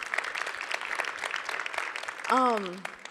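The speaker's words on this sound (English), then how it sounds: "can we give you a round of applause?" A keynote audience gives classroom teachers a round of applause, a moderate, steady patter of clapping that ends in a short cheer or whoop.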